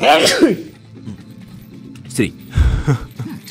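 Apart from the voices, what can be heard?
sneeze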